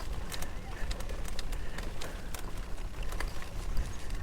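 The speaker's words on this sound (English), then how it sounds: "There's a lot of birds out here." Birds calling near a lake by a boat ramp, repeated chirps and coos over steady outdoor background noise with a hint of people nearby.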